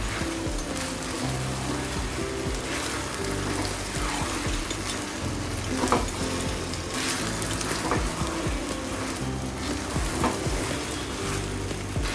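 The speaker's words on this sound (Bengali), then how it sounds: "চালটা আমি মিনিট কয়েক ভেজে নিয়েছি এখন চালটার একটা ভাজার একটা পুরপুর আওয়াজ হচ্ছে" Soaked polao rice fries in a pan, a close continuous crackling sizzle with scattered stirring scrapes and pops across the whole stretch, no talking.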